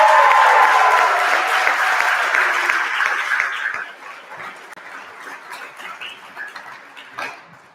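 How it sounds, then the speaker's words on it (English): An audience at a spring sports awards ceremony applauds the Lakes Region Tournament champion softball team, loud dense clapping that gradually fades into scattered claps. "I want to begin with another really, really loud round of applause for your Lakes Region Tournament champion softball team."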